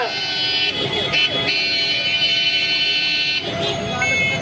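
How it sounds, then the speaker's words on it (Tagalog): Several car horns blare continuously and overlap in a loud, sustained chorus at an anti-corruption protest, with voices audible underneath. "isang busina! Busina! Busina! Busina! Busina!"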